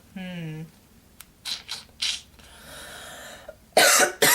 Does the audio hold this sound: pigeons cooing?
no